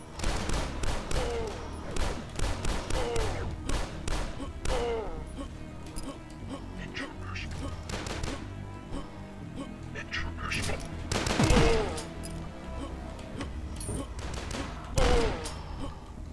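Pistol shots in the retro shooter game Dusk crack out in quick irregular bursts, loud and close over a busy backdrop of game noise and occasional impacts.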